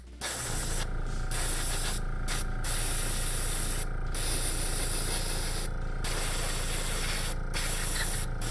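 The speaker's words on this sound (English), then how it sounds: "I'm airbrushing now." An airbrush spraying paint onto a 3D printed D.Va model hisses loudly and close in long bursts, cutting out briefly several times between passes, over a low steady compressor hum.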